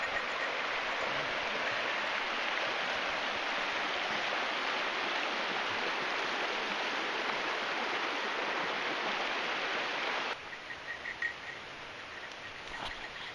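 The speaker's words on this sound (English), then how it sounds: "That's a nice stream crossing right here." Steady broadband rush of a stream flowing at a hiking trail crossing in the Great Smoky Mountains backcountry, loud and continuous, easing slightly near the end with faint chirps over the water.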